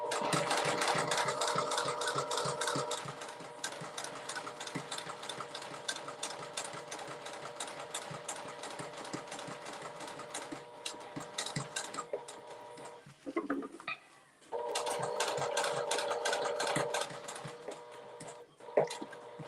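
A sewing machine stitches steadily in a fast, even rhythm while a notebook holder is sewn, pausing briefly for pivots near the end before running again, close and moderately quiet.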